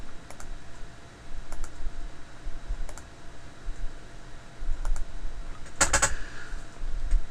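Scattered sharp computer mouse clicks, a few seconds apart, while reference lines are erased from a drawing of segmented Christmas ornament patterns; one louder double click near the end, over quiet room noise.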